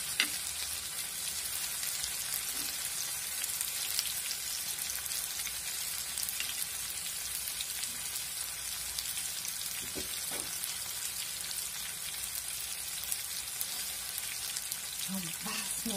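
Chicken frying in oil in a pan, a dense, steady sizzle with scattered crackles and pops throughout, close and continuous.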